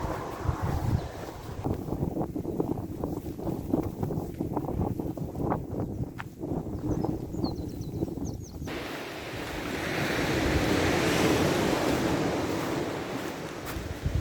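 Sea waves wash onto Runswick Bay beach on the Yorkshire coast, a steady broadband surf roar with gusty wind buffeting the microphone, swelling louder toward the end.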